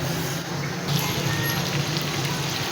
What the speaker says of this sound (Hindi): सारी बोटियाँ उठा उठा के हमने एक एक करके सारी रख देनी है।